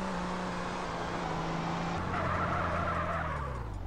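A car engine hums steadily as it drives into a 90-degree parking spot in GTA San Andreas, the tone shifting midway with a brief tire scuff, continuous and fairly close.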